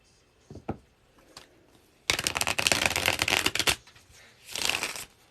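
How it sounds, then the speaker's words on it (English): Tarot cards are shuffled up close: a few soft taps and flicks lead into a dense, rapid riffling burst lasting over a second, followed by a shorter, softer rustle, with no talking. "Let me specifically shuffle"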